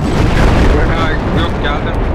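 A heavy blast in the military shooter Project Reality, a loud, rumbling boom that rolls on across the whole moment, with players talking over it.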